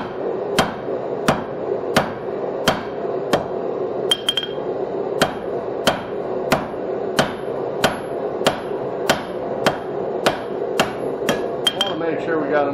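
Hammer blows ring out in a steady rhythm, about twenty sharp metallic strikes on hot steel as a blacksmith forges and flattens flat jaw tongs. A few lighter anvil taps fall between them, close and loud, with no talk.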